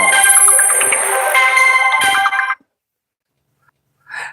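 A phone ringtone for an incoming call plays loud and close as a bright tonal melody for about two and a half seconds, then cuts off into silence before a brief faint sound at the end.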